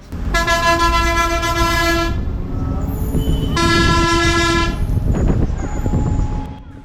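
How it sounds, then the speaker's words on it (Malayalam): A TNSTC bus on a mountain road between Kattappana and Cumbum via Kambammettu sounds two long, loud, blaring horn blasts, the first lasting about two seconds and the second slightly shorter, over a constant rumble of engine and road noise. "നമ്മുടെ ബസ് ഹോൺ മുഴക്കിയാണ് മുന്നോട്ട് പോകുന്നത്"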